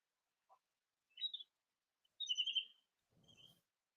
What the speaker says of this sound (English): Bird chirping?